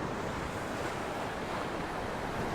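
Storm waves from Tropical Storm Archer on the Chesapeake Bay crash and surge in a loud, unbroken roar, mixed with heavy wind buffeting the microphone and no voices.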